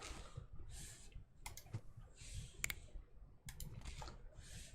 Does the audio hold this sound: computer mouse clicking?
yes